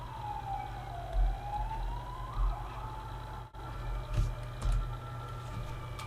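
A wailing ambulance siren rises and falls in the distance in the video game Carrion, over steady road rumble, with a few bumps and knocks nearby.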